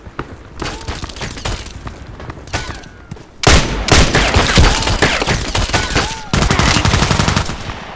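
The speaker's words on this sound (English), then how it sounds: "he was already shooting at me" Gunfire in the shooter game Contract Wars: dense bursts of automatic fire and repeated shots, loud and close, with a heavier barrage partway through and continuing to the end.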